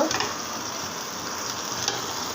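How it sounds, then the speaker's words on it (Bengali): Potatoes dropped into hot oil in a pan after fish has been fried, giving a loud, steady sizzle with a brief sharper burst at the start and no talking. "এখন আমি আলুগুলো দিয়ে দেব"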